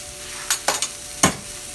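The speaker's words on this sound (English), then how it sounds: "Now at this point, you just want to give everything a good stir." Bacon, potatoes and green beans with ranch seasoning being stirred in a frying pan: a few short scraping stir strokes over a low, steady background sizzle, fairly close, with no talking.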